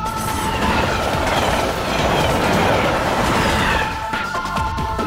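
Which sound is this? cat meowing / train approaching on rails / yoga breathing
train approaching on rails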